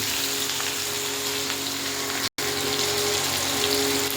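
Whole cumin, garam masala, bay leaf, chopped onion and tomato fry in hot oil in a pan after fish has been fried, giving a steady, even sizzle with a brief dropout midway.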